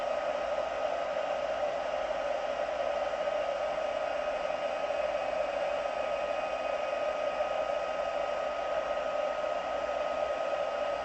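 A heat tool blows hot air steadily over glittered puff paint on a dryer sheet, a constant, even whooshing hum that holds unchanged for about eleven seconds without speech.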